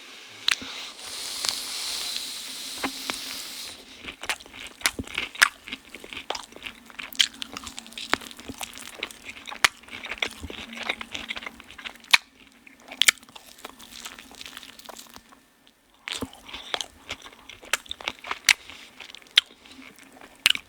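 Close, crisp biting and crunching on a KFC chicken burger with ketchup, with repeated wet chewing bursts and pauses between bites, loud and right at the mouth with no talk.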